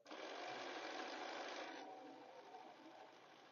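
A sewing machine stitches down scrap quilt pieces for a string or crazy quilt, running in one steady, close whirr that drops slightly in level partway through and keeps going to the end.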